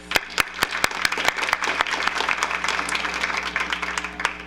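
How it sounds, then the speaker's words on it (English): A round of applause at a school board meeting: a crowd clapping steadily, with a few sharp nearby claps standing out from the dense wash of hands. "Give them another round of applause."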